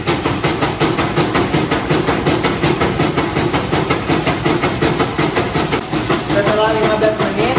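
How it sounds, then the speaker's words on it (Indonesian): Loud, steady rattling and mechanical drone of a sieve shaker machine running a stack of sieves for asphalt mix sieve analysis, continuous and close, with fast rhythmic clatter throughout. "Kemudian nyalakan alat shift shaker."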